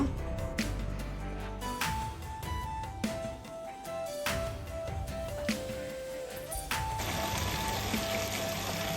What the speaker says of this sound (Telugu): ఆకుకూర అయితే కడుక్కుందాము